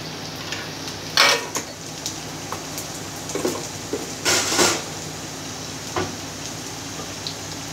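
Chopped garlic frying in a pan for Punjabi kadhi, a steady soft sizzle with a few clinks of a spoon against the pan and no voices.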